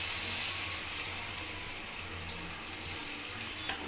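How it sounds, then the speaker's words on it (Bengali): Water pours in a steady, continuous splashing rush into a pan holding cauliflower and potatoes, fairly close and loud throughout, with no talking. "এবার আমি পরিমাণ মতো জল দিয়ে দেবো যেন ফুলকপি আর আলুটা ভালোভাবে সেদ্ধ হয়ে যায়।"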